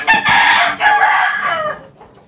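A labuyo jungle-fowl rooster in a box lets out a loud, close crow in two drawn-out bursts that fade at the end.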